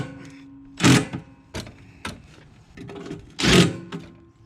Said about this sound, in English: take our screws and screw that in